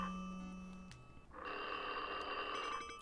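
A desk phone rings in the Son of Freddie video game, a steady electronic trill with bright harmonic tones that starts partway through over quiet background music.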